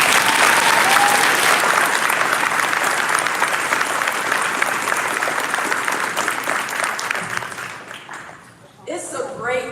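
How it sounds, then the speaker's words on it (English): A large graduation ceremony crowd applauds loudly and continuously, the clapping fading toward the end before a voice begins speaking over the quieting room. "Let's give them another round of applause."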